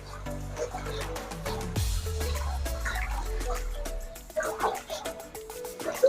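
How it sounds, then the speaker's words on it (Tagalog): Water refilling an outdoor tilapia tank makes a soft liquid trickle and scattered drips, while birds coo nearby and a brief swooping tone cuts in early. "pagre-refill po ulit namin ng tubig."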